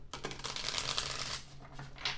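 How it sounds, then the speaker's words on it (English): Tarot cards riffled and shuffled by hand in a quick continuous flurry of papery flicks and slaps, close and fairly quiet, with a steady low hum beneath. "my rule is I have to give it one more shuffle."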